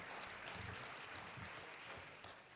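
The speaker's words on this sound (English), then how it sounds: "Yeah, you can clap for that." An audience at a live-streamed conference gives steady, dense applause that stays even throughout. The clapping is heard alone, with no talk over it.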